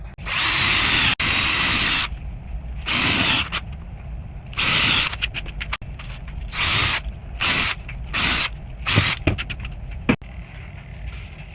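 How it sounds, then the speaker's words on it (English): A power drill with a Forstner bit whirs loudly in several bursts of varying length, boring into wood with short pauses and clicks between runs. "I'm gonna have to drill down just a little bit more with my Forstner bit"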